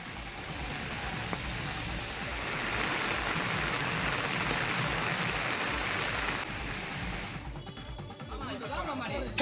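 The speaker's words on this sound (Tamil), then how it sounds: "விருதுநகர் மற்றும் சிவகாசி சுற்றுவட்டார பகுதிகளில் பெய்த சாரல் மழையால் வெப்பம் தணிந்து" Light drizzle falls around Virudhunagar and Sivakasi, a steady soft hiss of rain that continues throughout, with faint background chatter mixed in.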